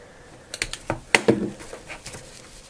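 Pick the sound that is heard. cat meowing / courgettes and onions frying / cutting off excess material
cutting off excess material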